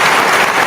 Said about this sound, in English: Oh, wait, I got to get my clapping.